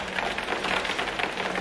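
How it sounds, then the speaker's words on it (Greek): First light rain falling outside a house, a soft steady patter and hiss of drops on surfaces, continuous and moderately close with no voices. "Η πρώτη βροχούλα, παιδιά, στο σπίτι μας."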